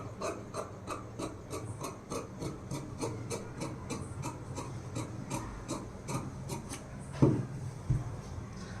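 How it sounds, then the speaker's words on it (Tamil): Scissors cutting lining fabric for a blouse, giving a steady run of soft, rhythmic rasping snips close by and fairly quiet, with a few louder clicks near the end. "பாருங்கள், பேக் சைடு வந்து கட் பண்ணி எடுத்துட்டோம்"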